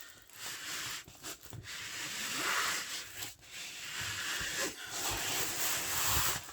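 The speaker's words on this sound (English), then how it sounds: "I'm rubbing it along the table this direction to go against the roll" A rolled diamond painting canvas rubs against a table in long, steady hissing sweeps, close by and fairly quiet, with brief pauses between strokes.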